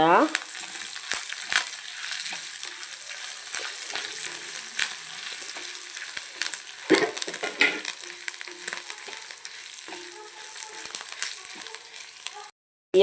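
Spices dry roast and crackle in a hot pan for chicken curry, with steady scraping and stirring strokes and occasional sharper rattles, no voices.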